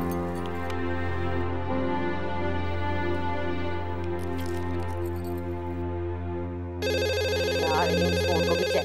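A telephone rings steadily with a repeating electronic tone, close and clear, switching to a brighter melodic ringtone near the end.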